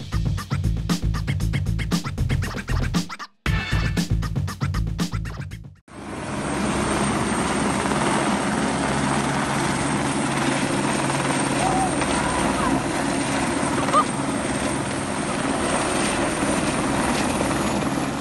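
A firefighting helicopter's rotor and engine drone steadily and loudly after a short burst of other sound, the thumping whir continuing without pause.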